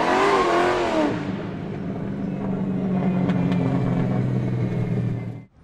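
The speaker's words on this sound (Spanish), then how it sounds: "Te voy a hablar de todo lo concerniente al motor y a los sonidos de escape" A 2024 Ford Mustang GT 5.0 V8 engine revs loudly at first, then settles into a deep, steady rumbling idle that cuts off at the end.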